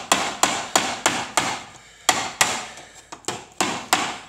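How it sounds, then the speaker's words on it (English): A hammer strikes copper sheet, folding it over the lip of a handmade copper cup. Eleven sharp, ringing blows land close by in a mostly steady rhythm, with one short pause midway and no talk. "I'm holding my hammer at an angle to where it's folding it over."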